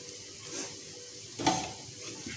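Soft, steady sizzle of a layered paratha frying on a hot tawa, quiet and close, with a brief louder crackle or clatter partway through.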